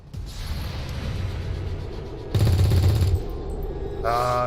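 Gunfire in the video game XCOM 2 Long War 2 bursts out as a loud, rapid rattling volley midway through, set against a steady game rumble and followed by a mechanical whir.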